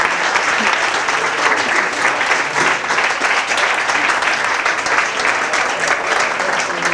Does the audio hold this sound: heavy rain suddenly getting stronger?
no